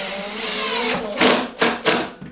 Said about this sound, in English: so the screws are going right into the holes